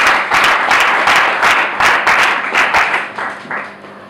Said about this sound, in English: Please, let's give a round of applause for our women.